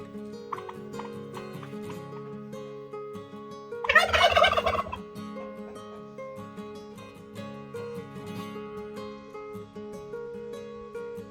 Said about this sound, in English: she's going to say hi to the turkeys.